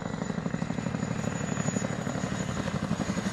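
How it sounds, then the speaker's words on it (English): Chinook tandem-rotor helicopter at an air show display, its rapid, rhythmic blade flap thudding steadily and loudly over a droning engine. "the thunderous sound of the Chinook blade flap"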